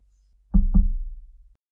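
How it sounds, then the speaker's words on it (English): Two firm knocks on a front door in quick succession, close and hollow-sounding, with a short resonant ring after them in otherwise near silence. "Deacon and I trudge up the lane to the front door and knock."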